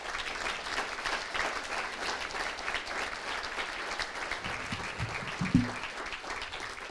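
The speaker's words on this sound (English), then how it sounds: "I want a big round of applause for all of our staff right now" A village audience at the 2024 State of the Village address in Niles applauds its staff, a steady, dense wash of clapping from a large crowd with a slightly louder burst near the end.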